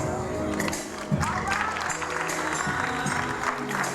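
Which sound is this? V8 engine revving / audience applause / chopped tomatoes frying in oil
audience applause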